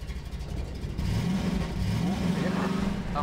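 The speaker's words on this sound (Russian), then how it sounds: "Автомобиль." Revving car engine in a video game, a mid-pitched motor surging and whirring steadily under background chatter and game sounds.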